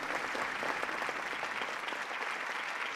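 A crowd at Ford's Theatre applauds the president, with continuous, even clapping that sounds somewhat distant and fills the space without voices.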